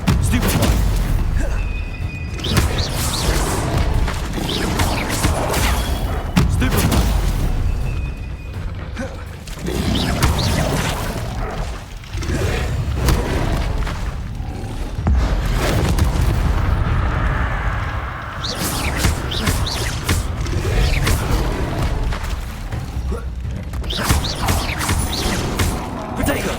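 Spell casting and magical blasts in Hogwarts Legacy, a dense run of booming impacts, crashes and whooshing bursts that continue steadily throughout, loud and close.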